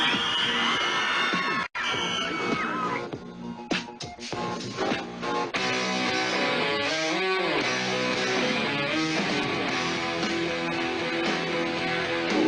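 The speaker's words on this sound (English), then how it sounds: "These fans are crazy. They're screaming and having fun." A studio crowd of fans at a Vancouver TV show screams and cheers in loud, continuous high-pitched shrieks. The sound dips briefly and swells again, with music-like tones mixed in.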